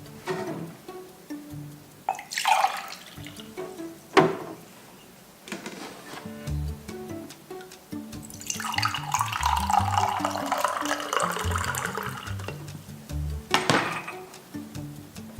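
Coffee poured for an airline passenger, a liquid stream running for several seconds between intermittent clinks and handling knocks, fairly close and without speech.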